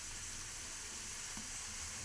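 Potatoes frying for biryani in a pot over an outdoor wood fire, giving a steady, dense sizzle at close range that holds evenly for the whole stretch with no voices.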